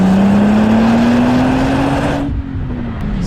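Audi S4 B5 engine pulling hard under acceleration, a steady rising drone climbing in pitch, loud and close, then easing off abruptly near the end as the throttle lifts.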